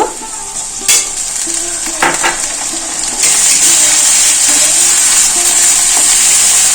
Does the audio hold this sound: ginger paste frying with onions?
yes